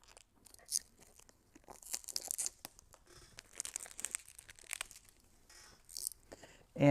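Tint film is cut and trimmed on a car tail light. Quiet, close crinkling and crisp slicing scrapes come in irregular bursts with pauses between, followed by a louder thump at the end, with no speech.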